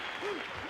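Concert audience applause fills a hall at the Métropolis in a continuous dense wash of clapping, with a voice briefly heard over it.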